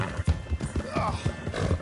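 Horse hooves in the video game Red Dead Redemption 2 clip-clop in a quick, steady rhythm close by, with a brief whinny mixed in.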